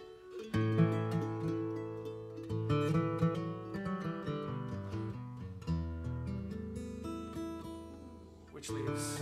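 A 1937 Martin D-28 acoustic guitar with a spruce top and rosewood back and sides, strummed and picked in a busy, rhythmic passage of ringing chords and single notes, played close and alone.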